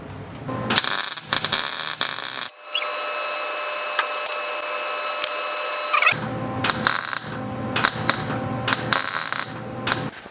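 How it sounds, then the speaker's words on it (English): Electric arc welding tacks a small metal piece onto a Honda CB500F motorcycle fender at a welding table, several bursts of crackling buzz separated by pauses, with one long sustained stretch of arc hiss in the middle. "I'm gonna try and get in here and weld this thing, tack it in place"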